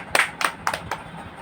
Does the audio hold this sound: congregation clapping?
yes